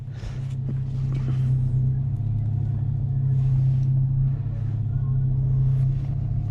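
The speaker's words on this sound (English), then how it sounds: "Let's go for a POV test drive, guys." A 2010 Dodge Charger SXT on a test drive, its engine a steady low rumble with a constant road drone inside the cabin, and faint voices at times.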